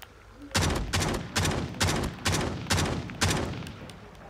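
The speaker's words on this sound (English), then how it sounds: "What is he shooting me with?" Gunfire in the mobile game COD Mobile: about eight loud, evenly spaced heavy shots, each with a short decaying tail, close and without talk over them.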